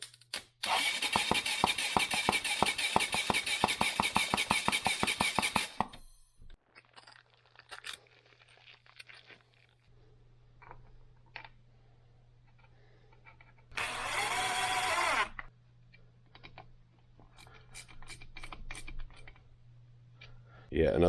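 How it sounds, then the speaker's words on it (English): The starter on a 2005 Honda CRF450X motorcycle engine cranks in a fast rhythmic chatter for several seconds, then a second short burst of cranking follows a quiet stretch with a low hum. "I actually want to run the starter here for a little bit and just make sure the starting mechanism is working."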